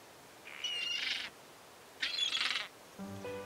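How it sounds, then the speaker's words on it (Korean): A flock of Chinese crested terns gathered on an island gives two raspy, chattering call bursts about a second long, separated by a pause, before a different, lower tonal sound starts near the end. "뿔제비 갈매기들이 섬에 모여 있어요"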